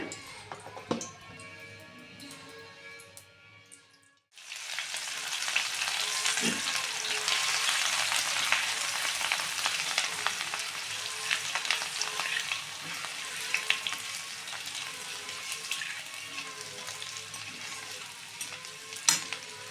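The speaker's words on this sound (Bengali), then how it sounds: "এবার তেল দিয়ে দিচ্ছি" Oil poured into a pan for egg pasta bursts into a loud, close sizzle after a quiet start and keeps crackling steadily to the end.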